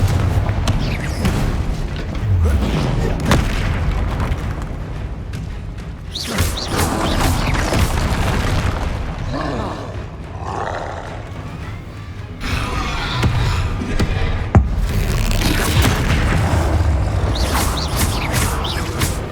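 Explosion spells blast repeatedly in the Hogwarts Legacy video game during a fight near a troll, a series of loud booming bursts with crashing debris following one after another.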